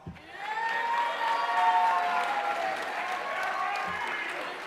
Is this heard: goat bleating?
no